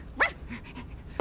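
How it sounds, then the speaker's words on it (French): A dog gives a short, soft whimper and a few faint pants, quiet and close, with brief breathy bursts over a hushed background. "C'est le chien."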